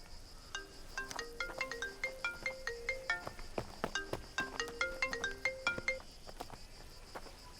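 A phone ringtone plays a quick, repeating electronic melody of bright beeping tones, fairly faint, with no one speaking.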